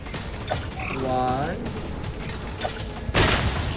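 Guard 26's bombs going off in the Identity V mobile game: a sharp, loud burst near the end follows several quieter thuds and tonal game effects.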